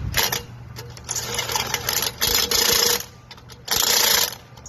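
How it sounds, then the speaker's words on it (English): Impact wrench with a torque stick tightening wheel bolts during a roadside tire change, delivering three loud rattling bursts of hammering separated by short pauses, close by. "I'm using a torque stick on every tire you change."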